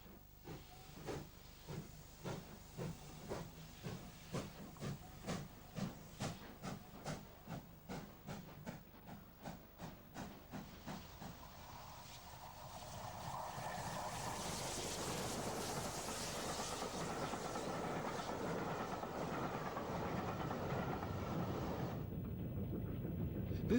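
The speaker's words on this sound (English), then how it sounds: "Representative of an older generation of steam is Mansell King Arthur Sir Lamorak, hauling a Basingstoke to Waterloo train" Maunsell King Arthur class steam locomotive Sir Lamorak hauling a Basingstoke to Waterloo passenger train: a run of rhythmic exhaust chuffs giving way to a steady rushing roar and hiss as it passes, fairly faint throughout.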